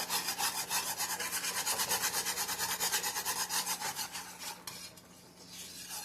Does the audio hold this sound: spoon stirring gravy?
yes